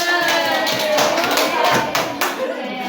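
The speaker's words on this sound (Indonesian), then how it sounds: "Tepuk tangan juga buat kelompok yang menjawab." A class of students claps for a group in the classroom, a moderate burst of many hands tapping together, with some voices murmuring underneath.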